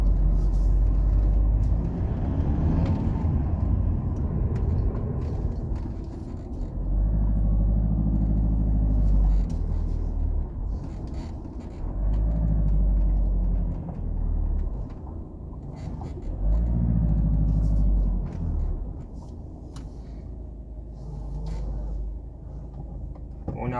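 A Volkswagen Passat driven with a worn, struggling clutch: a steady loud engine and road rumble rises and falls in long swells as it labours through the gears.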